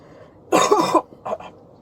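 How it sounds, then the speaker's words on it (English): A person's cough sounds close by as a quick burst of two or three harsh coughs. A short, softer double cough follows after a brief pause. "I need to cough."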